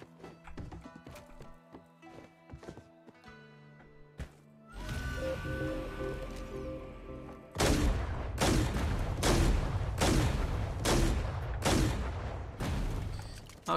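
SMG gunfire in the video game Cyber Hunter: loud, sharp bursts of shots rattling close by, sparse at first, then repeated heavy volleys in a steady pounding rhythm.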